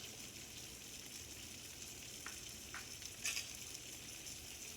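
Garlic and tomato sauce cook in a pot of chili beans, giving a steady, soft sizzle with faint bubbling and a few light scrapes, and no voices.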